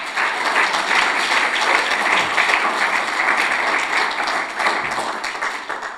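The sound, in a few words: audience applause for Andrea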